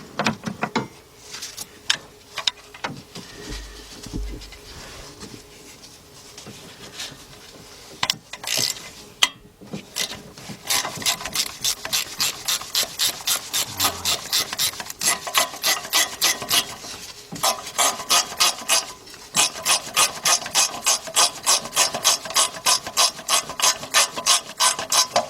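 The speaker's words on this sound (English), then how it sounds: "There's another stud I feel right up under here. So let's get that. Get our socket on." A socket ratchet works a catalytic converter stud nut loose underneath a 2001 Chevy Tracker with a 2.5 engine, with some rubbing and scraping first, then a long run of fast, steady, close-up pawl clicks in even bursts.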